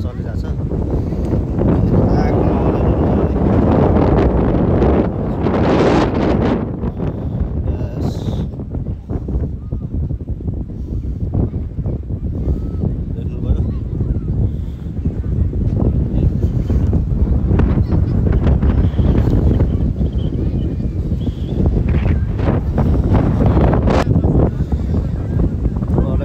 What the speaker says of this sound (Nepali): हावाले डिस्टर्ब गर्यो, हावाले साह्रो हावा चल्यो है।